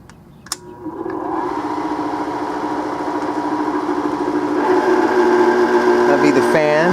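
A Bell & Howell Autoload 255A 8mm film projector starts up, its fan and motor spinning up into a steady close hum after a click, with a person talking over it.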